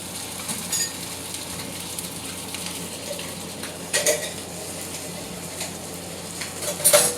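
Fish fries in grease in a pan at home, giving a steady sizzle with occasional louder crackles and pops and no one speaking.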